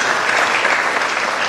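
An audience at a poetry gathering claps as a blessing for the poet, a brief, loud and even wall of applause with no pauses.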